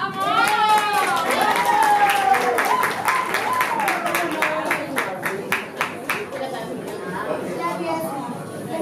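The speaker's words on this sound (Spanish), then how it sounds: "Un aplauso grande para" Guests at a wedding reception applaud the bride and groom, with scattered clapping that grows into rhythmic hand claps over lively chatter and voices, close and busy.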